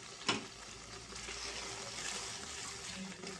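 Coriander seeds, cumin and garlic cloves fry in a pan as a faint, steady sizzle. A single sharp clink of a spoon on the pan comes near the start.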